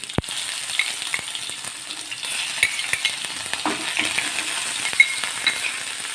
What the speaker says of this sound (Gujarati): તો તેલ ગરમ થાય ત્યારબાદ તેમાં આપણે અડધી ચમચી જેટલી રાય અડધી ચમચી જેટલું જીરું એક પિંચ જેટલી હિંગ